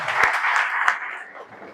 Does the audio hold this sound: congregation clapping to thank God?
yes